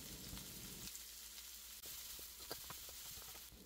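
Chopped onion and chili frying in hot oil with curry leaves while being stirred, a steady close sizzle broken by a few scraping, clinking strokes of the spoon.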